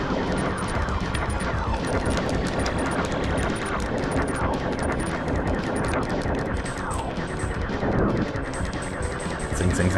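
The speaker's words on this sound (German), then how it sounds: "jetzt prallen meine Schüsse an ihr ab." Rapid-fire laser shots in the SNES game Starwing ricochet off a spider boss, a relentless barrage of crackling bursts and metallic pings over dense game music and explosions, loud and continuous.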